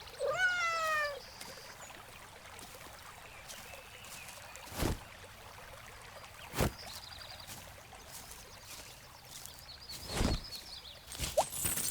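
A cat in the Garden Simulator video game, heard as a rising meow at the start over a soft flowing water-like ambience, with a few short thumps and clicks scattered later.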